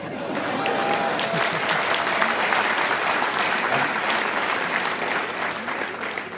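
Comedy festival audience applauding together, a loud, sustained burst of many hands clapping that swells in and holds steady, with faint voices mixed in.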